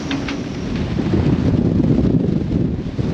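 Strong storm wind gusting around a boat, a steady loud roar of buffeting air across the whole stretch with no let-up, rising slightly in force after the first second.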